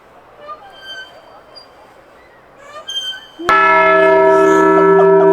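A single loud bell is struck at a van-life camp spot, ringing out suddenly and then sustaining a rich, slowly decaying tone, after quieter ambient sounds and brief voices before the strike.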